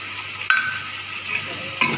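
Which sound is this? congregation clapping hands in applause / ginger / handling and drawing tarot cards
ginger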